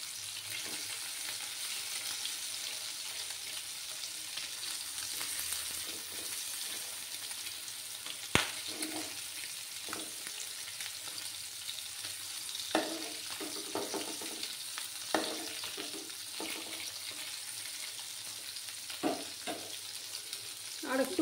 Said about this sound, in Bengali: দুটো সাইডই ভালো করে ভেজে নেব।